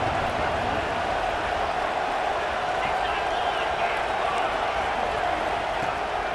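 Stadium crowd in a college football video game, a dense, steady roar of cheering on third down that stays constant throughout with no break.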